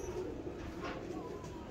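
A pigeon held in hand gives a faint, soft, low coo amid quiet background noise, heard close but at low volume.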